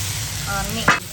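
A curry pan of spices and vegetables sizzles and fries steadily up close, with a brief scrape of stirring near the end.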